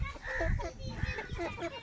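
Ten young chicks, three cockerels and seven pullets, clucking softly and continuously at close range, a busy murmur of low calls.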